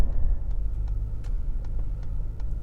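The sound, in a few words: Ford Raptor twin turbo EcoBoost truck driving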